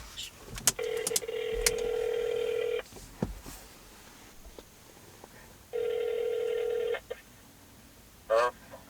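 Telephone keypad tones beep in quick bursts, with two long dialing-style tones and a ringing burst at the end, fairly close and clear.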